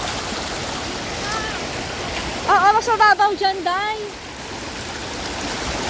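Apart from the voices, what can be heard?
water waves and current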